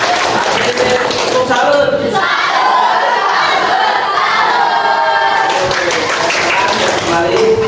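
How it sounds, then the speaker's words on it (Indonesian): A class applauding a student group after their presentation, a dense burst of clapping and cheering from many people lasting several seconds, with a voice speaking over it. "Baik, kita kasih aplaus buat kelompok 4."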